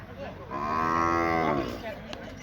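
Several cattle at a village cattle market in Chaiyaphum, Thailand, with one long, loud, close moo swelling and fading over about a second and a half against a background of crowd murmur.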